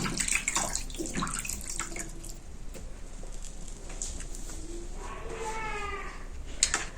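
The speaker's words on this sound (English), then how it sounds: "Wash your hand always." Hands are washed under running tap water, a steady close splashing and trickling that lasts throughout at a soft level, with faint voices in the background.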